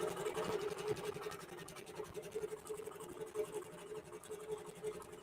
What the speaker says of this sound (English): We just press go. And now we're quilting that out.